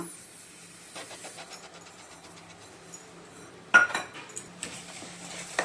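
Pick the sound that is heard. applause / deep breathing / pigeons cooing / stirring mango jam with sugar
stirring mango jam with sugar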